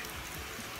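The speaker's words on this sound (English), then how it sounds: "it's raining out here. It's been raining all day." Steady outdoor rain falling through a day-long downpour, a soft continuous hiss with faint patters and no voices.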